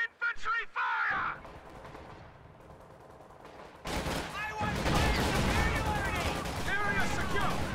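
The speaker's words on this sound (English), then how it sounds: "Taking infantry fire!" Gunfire from infantry in a World War II strategy video game, a dense burst of shots and rattling fire rising from a quiet stretch, loud and sustained, with game voices calling out over it.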